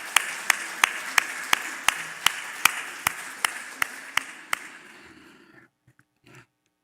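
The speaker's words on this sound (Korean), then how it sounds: "한번 옆에 계신 아버지들을 보시면서 다시 한번 우리 감사의 박수 드리겠습니다" A church congregation at a Sunday service claps in unison, a steady rhythmic beat of about a dozen sharp claps that fade and stop, followed by quiet shuffling.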